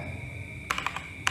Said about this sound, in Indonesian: Sekarang coba saya gunakan untuk mengetik.